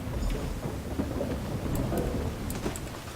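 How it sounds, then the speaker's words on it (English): Steady rain hisses across a video game scene, with low rumbles of thunder rolling beneath it and a few brighter crackling drops, continuous and fairly close, with no voices. "I decided to stop caring about the rain"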